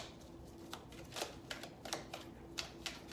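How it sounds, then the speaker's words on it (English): Quick, irregular papery riffles and soft snaps of tarot cards being shuffled close by, in short bursts over a faint steady hum. "I shuffle until a card throws itself out and it flips itself over."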